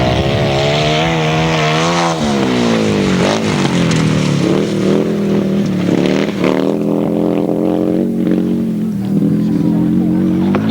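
Grasstrack racing motorcycles in a solo Bonanza race, engines howling loudly and continuously with rising and falling pitch as bikes accelerate and pass, a commentator talking over much of it.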